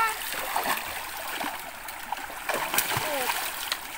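Water splashes in a river as people wade and do laundry, with bright intermittent splashes over a running-stream wash, and voices talking nearby.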